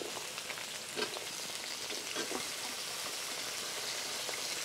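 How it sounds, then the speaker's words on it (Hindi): Potatoes fry with onions in a pan: a steady, close hiss of sizzling oil runs throughout, broken by a few soft stirring clicks, with no voices. "आलू को हम थोड़ी देर भूनेंगे।"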